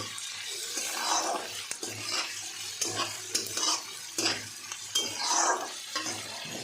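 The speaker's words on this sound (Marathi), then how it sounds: "हे असं सर्व फ्राय करून घ्यायचं" Ingredients sizzle in a hot pan while a spoon stirs and scrapes in repeated strokes, with occasional clinks of utensil against metal, close and moderately quiet, no talking.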